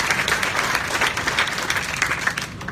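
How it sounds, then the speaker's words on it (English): An audience applauds at a groundbreaking ceremony for a lakeside venue in Lake Charles, Louisiana, with dense, steady clapping from a crowd that holds near and loud before starting to fade at the end. "I want to ask all of you to recognize him with your applause"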